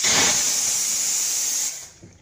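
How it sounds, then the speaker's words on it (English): Steam cleaner wand used on the seats of a bus interior, giving a steady, loud, close hiss for about two seconds before it cuts off abruptly. "here I have my steaming wand"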